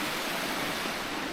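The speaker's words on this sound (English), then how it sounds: "There's the water now, goes into the wee mill race." Water flows into a small stone mill race in Parkanaur Forest Park, Dungannon, with a close, continuous rushing wash and no voices over it.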